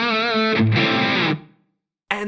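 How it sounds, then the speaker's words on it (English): A distorted electric guitar runs through an Eventide H9 with a compressor placed before the distortion, giving a sustained, thick chord that cuts off into silence before another chord strikes at the end. "There's also a compressor which you can place before or after distortion"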